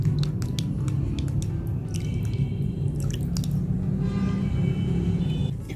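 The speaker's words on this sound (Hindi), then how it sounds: "इसको अच्छे तरीके से मिक्स कर लूंगी।" Potato bleach water being stirred with glycerin and almond oil: soft wet squishing and dripping with scattered light clicks, heard close over a steady low hum.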